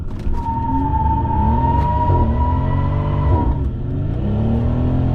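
A Mercedes-AMG C63 with a V8 engine drives past outside. A loud, steady engine drone with a clear tonal whine holds for several seconds, then dips slightly as it moves on.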